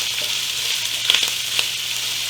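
Shredded carrots stir-frying in a pan for an eggroll stir-fry, giving a steady close hiss of frying with a few light clicks of a utensil against the pan.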